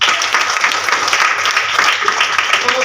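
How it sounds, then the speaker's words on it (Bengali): A room of attendees at a business training session breaks into steady group applause, a continuous dense clatter of many hands with no talking over it. "নিজেদের জন্য একটা হাততালি হোক।"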